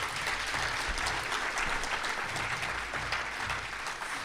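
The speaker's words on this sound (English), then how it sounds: "So round of applause to you." A crowd at the STEMmys Awards applauds steadily, many hands clapping together in a continuous, even roar that holds for several seconds without voices.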